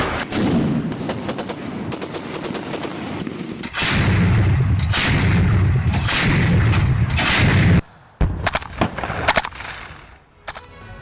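Heavy gunfire and artillery in a war zone in Ukraine during a counteroffensive against Russian forces, with dense bursts of shots and booms rolling almost without a break, a brief lull, then scattered sharp reports that fade.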